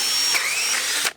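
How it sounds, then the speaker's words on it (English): A power drill with a straight bit bores through the center of wood for an outside faucet installation, a steady high whirring grind lasting about a second before cutting off abruptly. "I'm just going to go ahead and drill through the center with just a straight bit"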